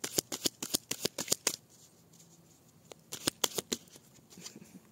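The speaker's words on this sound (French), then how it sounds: "Allez, je mélange les cartes." A deck of cards is shuffled close by in two quick bursts of crisp riffling snaps, separated by a short pause.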